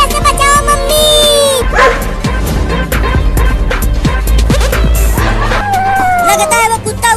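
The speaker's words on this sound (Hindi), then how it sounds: "चिंटू बचाओ, मुझे इस कुत्ते से बचाओ मम्मी" A dog barks repeatedly and loudly in a noisy domestic comedy scene, the yelps and bow-wows mixed with shouting voices, music and general commotion throughout.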